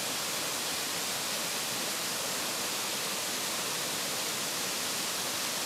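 Autumn waterfall, a steady broadband rush of falling water, continuous and even with no other sounds.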